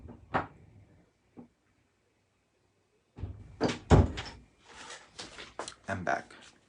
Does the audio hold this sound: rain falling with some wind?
no